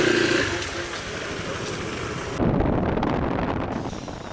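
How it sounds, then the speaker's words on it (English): Strong wind gusting over the microphone on a road scattered with leaves in Northern Thailand, a loud broadband roar that rises and falls with a sudden gust midway, no one speaking. "Super windy, there's stuff thrown everywhere, leaves all over the road"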